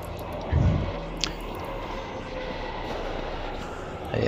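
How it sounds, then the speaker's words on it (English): A train rolls along in the video game Extermination Day, a steady mechanical rumble at moderate level, with a heavier thump near the start and another swell at the very end, no voices. "and now the train stops"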